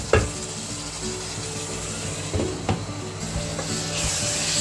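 Chicken pieces sizzle steadily in a hot pan for a bachelor-style chicken fry, with a few sharp scraping stirs of a spatula breaking through the constant frying hiss.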